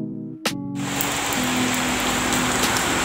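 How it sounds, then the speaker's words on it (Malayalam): Light rain falls in a steady, soft hiss of drops on surfaces, continuous and even after a brief sharp knock near the start. "ചെറുതായിട്ട് മഴ വന്നിട്ടുണ്ട്."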